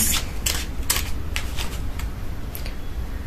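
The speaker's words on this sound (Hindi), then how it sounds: "So I'm shuffling the cards." Tarot cards are shuffled by hand in a series of quick riffling bursts, close and fairly loud, with short pauses between them and no talk.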